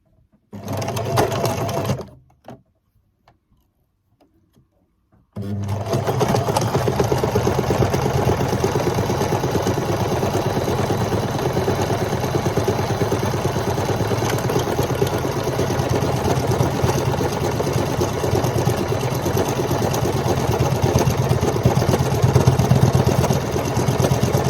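Sewing machine stitching a buttonhole, a steady continuous mechanical whir running loud and close for about nineteen seconds after a short burst and a brief pause.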